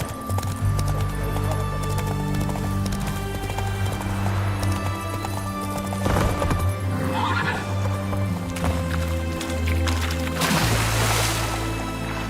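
Roach, Geralt's horse in the video game The Witcher 3: Wild Hunt, trotting with steady clip-clopping hooves and giving loud whinnies, over a continuous low ambient hum.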